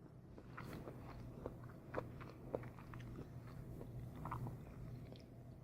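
Soft, close chewing and biting of cooked quinoa and black beans, with faint crunches and small mouth sounds repeating over a few seconds, quiet and with no talk.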